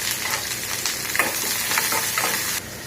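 Onions sizzle and crackle in a pan of hot oil while cooking for beetroot poriyal, a steady loud frying hiss with occasional stirring scrapes and no talking.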